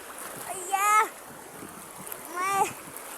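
People wade across a stream at a waterfall, with a constant rush of running water under two short bursts of speech.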